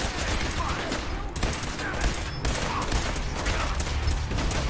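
Hostile automated turrets in Fallout 4 spray dense, continuous gunfire, loud and close, with brief pauses between long volleys.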